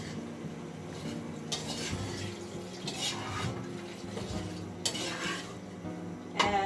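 Coconut milk added to a pot of Maranao chicken cooking, soft stirring and scraping of a utensil against the pot with faint sizzling and liquid sloshing, close and moderately quiet throughout.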